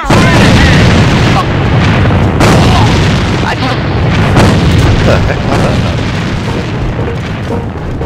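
Heavy, booming grenade blasts and gunfire fill the AVA online shooter match, a loud, dense barrage of explosions with rumbling low end throughout, with team voices under the noise.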